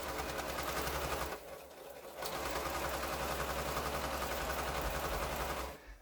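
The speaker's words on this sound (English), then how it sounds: "let's sew that last piece on" A sewing machine stitches a quilt block in steady, loud bursts, running continuously, pausing briefly near the two-second mark, then running again before stopping at the end, with no talk.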